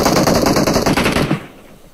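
Rapid automatic gunfire in a competitive battle royale video game match, loud and dense bursts running for over a second before cutting off abruptly into quiet.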